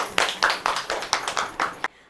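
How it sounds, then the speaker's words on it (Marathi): Applause for the winner of a party game at a comedy show, a short burst of about eight distinct claps in a steady rhythm, close and fairly loud, ending abruptly. "टाळ्या"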